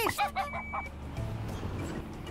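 Animated chickens cluck and crow in a Paw Patrol video game, with a burst of bright, repeated clucks at the start giving way to a steady low game backdrop.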